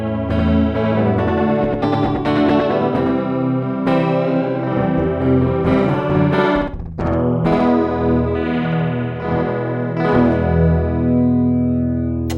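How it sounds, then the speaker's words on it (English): An electric guitar runs through a Rainbow Machine pedal, giving a chorus-like modulated, triple-tracked tone with a high-end shimmer as sustained, wavering chords ring out continuously. "adds an additional chorus voice for modulated, triple-tracked tones"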